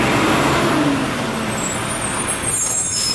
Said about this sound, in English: Garbage truck, of course, showed up.